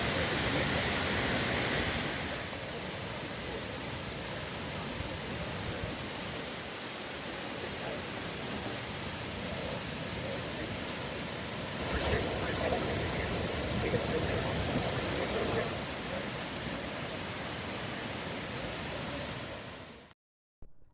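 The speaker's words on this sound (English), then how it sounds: "Welcome to Boti Waterfalls." Boti Waterfalls in Ghana roar as a steady, loud broadband rush of falling water, continuous for about twenty seconds before cutting off abruptly near the end.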